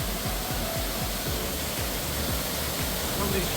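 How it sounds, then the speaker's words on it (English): Waterfall in a cave near Fintry and the Campsie hills, roaring with steady broadband rushing noise close by, loud and unbroken, with a voice faintly heard beneath the roar. "You're right underneath the waterfall here"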